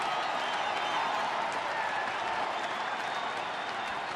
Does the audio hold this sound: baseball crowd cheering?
yes